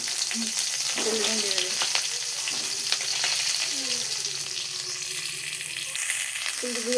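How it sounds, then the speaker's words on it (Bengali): Cauliflower pieces fry in hot oil with a steady, close hiss and crackle, while a voice speaks briefly over the sizzle. "এবার ফুলকপিগুলোকে তুলে দিয়ে দেবো"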